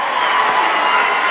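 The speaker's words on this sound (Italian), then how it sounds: "Fatevi un applauso forte" An audience claps loudly and continuously at the morning ceremony of the Premio Nazionale Paolo Borsellino, a dense crowd applause filling the space from start to finish.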